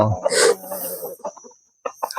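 Large fighting cocks at a Thai rooster camp give a loud, close crow-like call and clucks in the first second, followed by softer scattered clucks and bird noises.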